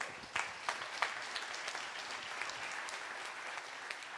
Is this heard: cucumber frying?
no